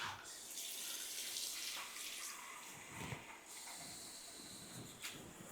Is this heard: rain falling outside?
no